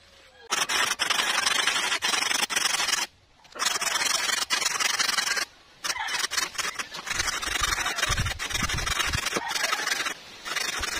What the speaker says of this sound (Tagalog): Matigas pa pong putulin itong lagari.